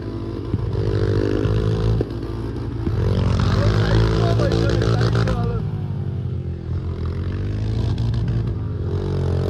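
A modified motorcycle labours up a rough, steep mountain road on the Mahabu ride in Dailekh, its engine droning and revving continuously up close, with a voice speaking over it.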